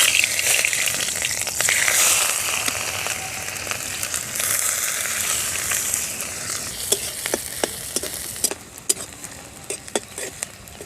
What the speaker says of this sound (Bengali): তার জন্য কড়াই দিয়ে দিচ্ছি পেঁয়াজ।